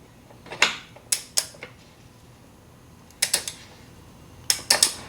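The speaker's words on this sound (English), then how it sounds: "We can tighten the axle." Ratchet tightening the rear axle nut on a Yamaha R1 motorcycle during a chain and sprocket swap: short bursts of sharp clicking, two at the start, then two more groups later, close and alone with no talk.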